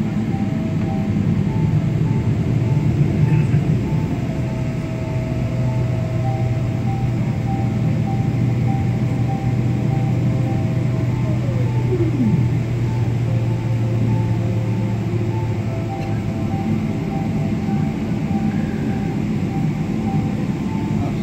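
Emirates airliner taxiing after landing at Adelaide, a continuous loud rumble with a descending whine midway, heard from inside.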